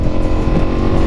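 A Ducati Multistrada V4S motorcycle accelerating on an expressway gives a loud, continuous engine roar that stays close and steady throughout.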